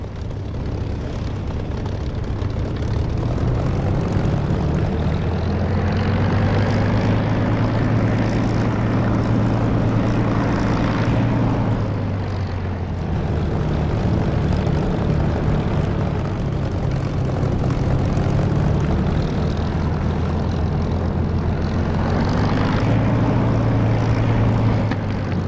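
Simulated aircraft engine in the DCS flight simulator throttling up for takeoff, a loud steady propeller drone with a low humming tone that swells and dips over time, continuous and without talk.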